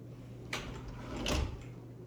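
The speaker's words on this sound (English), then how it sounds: "We've also got a pocket door here." A pocket door in a house slides along its track, with a quiet rolling rumble and two soft thuds about three-quarters of a second apart, faint against a low steady background hum.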